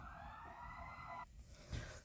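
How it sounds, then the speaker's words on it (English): Fire engine sirens wail in the distance at the site of a Bronx apartment collapse, a steady tone that then breaks off into muffled street noise and rumble. "welcome to all those noises in the background, right? Fire engines."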